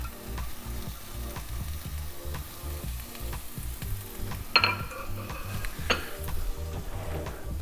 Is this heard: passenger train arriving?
no